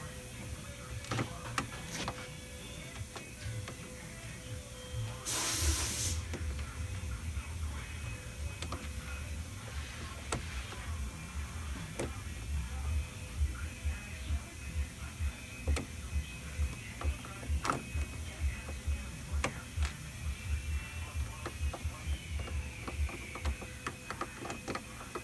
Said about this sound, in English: Reinstall your screw.